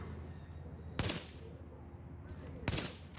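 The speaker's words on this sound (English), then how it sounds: "All you need to do, pop a sniper rifle, get it going," Two sharp, loud sniper rifle shots about two seconds apart in the video game The Division, each a hard crack with a brief tail over a low, steady game background.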